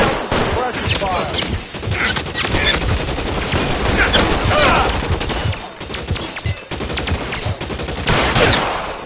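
Heavy, sustained gunfire in L.A. Noire, a dense, loud barrage of overlapping shots as a shootout rages around a building, with only brief dips in the volley over about nine seconds.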